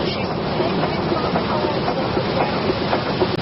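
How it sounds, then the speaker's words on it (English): A steady, broad low rumble with faint rhythmic clatter, like a train rolling past nearby, continuous throughout with no clear voices, as a sound effect in a 1982 radio drama. "That's not the roar of the ocean. It's the rumble of a train."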